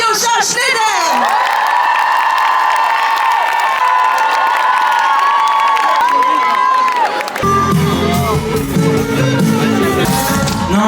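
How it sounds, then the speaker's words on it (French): A large festival crowd cheers and whoops loudly and continuously, with sustained shouts and applause that shift into a busier, rougher roar near the end. "Mesdames et messieurs, un tonnerre d'applaudissements pour Alyosha Schneider."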